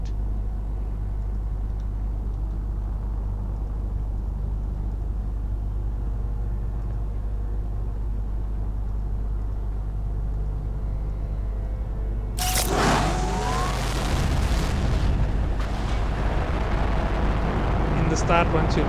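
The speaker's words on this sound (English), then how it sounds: "Seed spreader rocket." A seed spreader rocket launches in the Planet Crafter video game, breaking suddenly from a low steady hum into a loud broad roaring blast that sustains to the end, with a voice talking over it.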